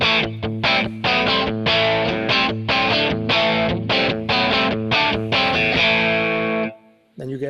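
A distorted electric guitar through a Kemper Profiler modeling a Rat-style distortion pedal plays rhythmic chords and riffs, loud and gritty with sustained harmonics, then cuts off briefly near the end before a last strum.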